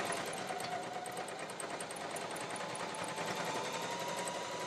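A Janome HD5000 heavy-duty sewing machine stitches through 8-ply denim with a steady, fast mechanical whir and rapid needle rattle running continuously at moderate level.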